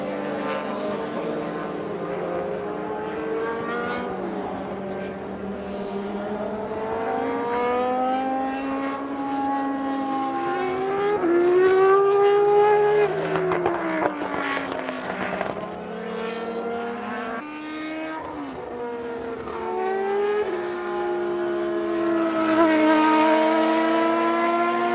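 Vintage race cars in SVRA Group 9 competition sweep past on the track at Indianapolis, loud engines rising and falling in pitch as they pass close by, one after another with sustained roar throughout.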